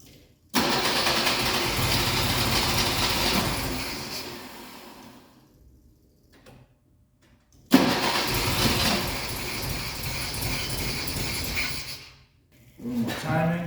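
A hot-rodded BMW 2002 engine is cranked on choke after 22 years standing, in two loud starter-and-engine bursts of several seconds each separated by silence, then a third attempt begins at the end.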